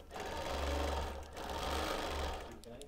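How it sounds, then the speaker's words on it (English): A sewing machine runs in two quick bursts of steady, rapid stitching, putting lock stitches through a quilt made of mixed fabrics; the motor hum is close and even, pausing briefly between runs. "I'm just going to take a couple more lock stitches to make sure it's over that earlier stitching."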